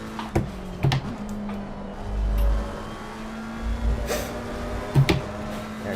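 Race car engine in a racing video game revving and droning steadily, with the pitch rising and falling through gear changes, loud and close, with a few sharp clicks from button presses on the wheel.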